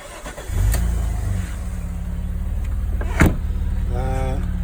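An Alfa Romeo 156 engine starts and settles into a steady idle close by, with a brief rev and a couple of clicks and a short beep partway through.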